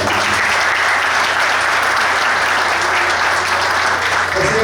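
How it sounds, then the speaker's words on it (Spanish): Loud, dense applause from an audience at a swearing-in ceremony, continuous clapping from many hands at close range that stays steady throughout. "Un aplauso para él."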